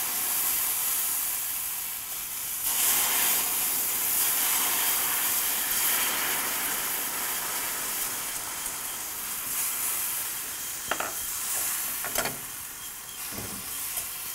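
Wine poured into a hot pan for deglazing, ahead of potato leek soup, gives a steady, loud hiss and sizzle with scraping and stirring clicks near the end.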